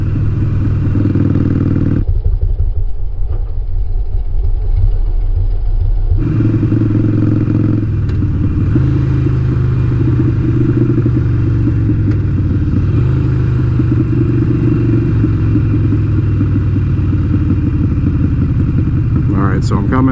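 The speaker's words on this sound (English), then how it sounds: "we got a red light coming up ahead, so we're gonna downshift" A motorcycle engine downshifts as the rider slows for a red light, its loud steady drone shifting pitch through gear changes, with a rider talking over it throughout.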